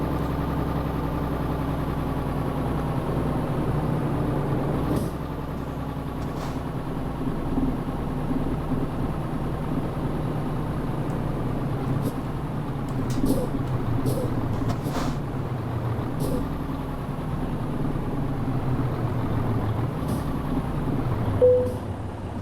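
Simulated truck engine in Euro Truck Simulator 2, a steady low droning hum with bus-like drive noise running continuously, with a few brief clicks and a small bump near the end.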